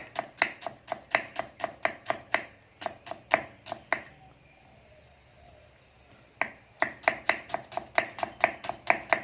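A knife rapidly slices ingredients on a cutting board for a Thai dipping sauce, sharp, even, quick chops in fast bursts with a brief pause in the middle, close and clear.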